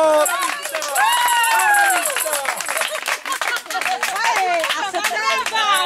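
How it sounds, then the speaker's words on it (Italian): An audience applauds after a choir performance in a steady burst of clapping, mixed with lively voices and cheering that run over it the whole time. "Un applauso!"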